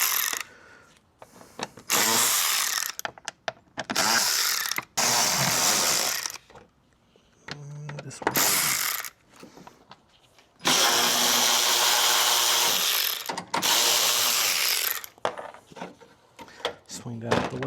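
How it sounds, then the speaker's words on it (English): A Snap-on 1/4 inch ratchet works spark plugs loose on a 2016 Yukon 5.3, in loud bursts of fast mechanical clicking broken by pauses and bits of tool handling. "Snap-on ratchet. This is 1/4 inch, but it's got as much power, I think,"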